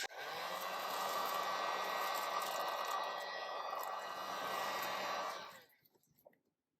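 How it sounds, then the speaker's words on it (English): Heat gun blowing steadily on a melt-and-pour soap wrapped in a cellophane shrink bag, a loud continuous broadband hiss lasting several seconds before cutting off abruptly. "And then take my heat gun."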